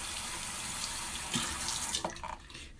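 Hot tap water runs steadily into a sink as a straight razor is rinsed under it, a continuous close hiss with brief splashy changes near the end as the flow is interrupted.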